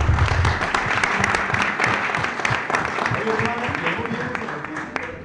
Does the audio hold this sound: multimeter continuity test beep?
no